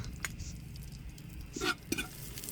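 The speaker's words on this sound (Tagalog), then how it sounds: "Sa kaldero, na tinanggalan natin ng mantika, magisa na tayo ng bawang." Garlic sautéing in rendered chicken fat in a pot for sinampalukang manok, a soft steady sizzle with a couple of brief stirring scrapes near the end.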